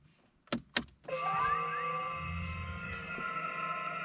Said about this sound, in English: the first thing we hear is a pedestrian warning